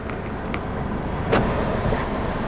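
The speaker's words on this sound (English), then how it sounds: "It opens up front and back portion of the sunroof" Electric sunroof opening on a 2021 Mercedes-Benz E350 4Matic sedan: a faint, steady motor hum inside the cabin with a soft click partway through, heard close with no talk.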